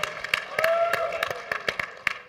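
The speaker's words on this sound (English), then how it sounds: "Kind of light on the applause." Light, sparse clapping from a conference audience at a case study competition, with a few scattered individual claps and a faint steady tone underneath, fairly thin and never building into full applause.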